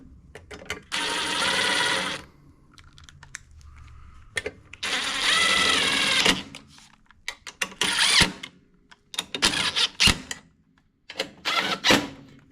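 Bursts of an impact wrench hammering valve cover bolts on a Honda push mower, loud rattling runs of a couple of seconds each followed by shorter choppy zips and pauses, close up with no talk.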